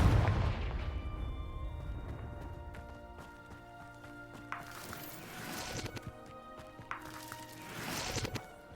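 A Confringo blasting spell detonates in Hogwarts Legacy, a deep boom that decays slowly, followed by two sharper crackling bursts later on amid a low rumbling backdrop.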